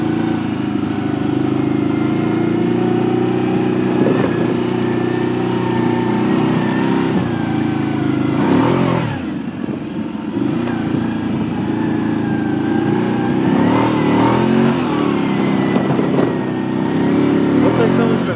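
A 2009 Can-Am Outlander 800 Max ATV engine runs steadily at a sand pit, a loud continuous mid-pitched drone with rising and falling revs and a brief dip near the middle, with some talking over it.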